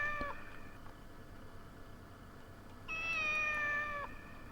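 A cat in a PS1 game meows twice from a distance, a short cry and then a longer, louder drawn-out one, over a faint steady game-ambience hiss.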